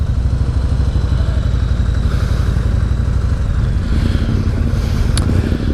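A 2018 Yamaha Star Eluder motorcycle engine runs steadily while riding, a loud, continuous low rumble with constant wind roar and no break throughout.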